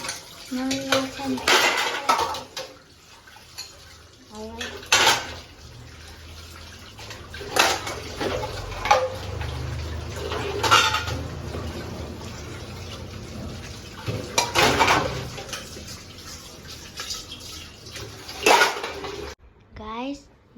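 Dishes, pots and pans being washed at home, with repeated metallic clinks and clatters of utensils, running water splashing between them, and people talking at intervals nearby.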